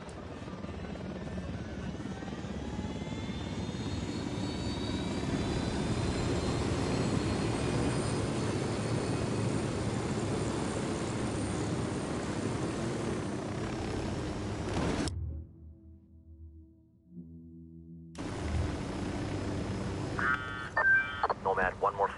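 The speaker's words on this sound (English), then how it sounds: "Unidad chopper. Stay low." An enemy helicopter in a video game drones steadily with a loud, continuous rotor and engine roar that swells and then drops out abruptly, returning briefly before the end.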